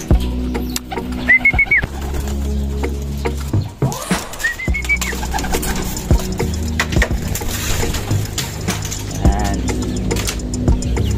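Pigeons coo in two short warbling bursts near the start and middle, mixed with mechanical clatter and rustling from a loft or release area, fairly close and loud.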